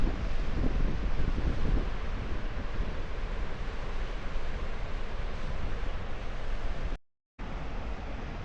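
Wind blows steadily along the seafront at Marazion, a loud broadband rush with surf-like texture buffeting the microphone, briefly cutting out near the end.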